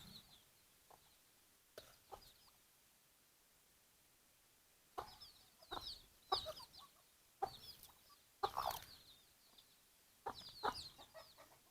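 Red chickens clucking in several short bursts separated by quiet gaps, fairly close but soft, with no talking.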